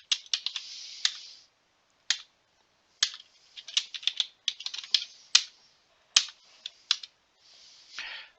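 Keys on a computer keyboard typed in irregular bursts while entering commands in Space Quest I, The Sarien Encounter, run in ScummVM: quick clusters of crisp clicks separated by short pauses, close and fairly loud, with no voices.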